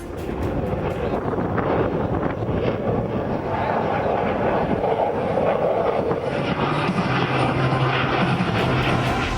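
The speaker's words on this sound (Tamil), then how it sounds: "ரஃபேல் போர் விமானங்கள் விண்ணை கிழித்துக் கொண்டு பறந்தன" Rafale fighter jets fly over during a military rehearsal, producing a continuous, heavy jet roar that stays loud and steady throughout.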